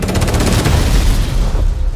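Explosions from a movie trailer: heavy, booming blasts roll one into another, loud and close, then thin out and fade toward the end.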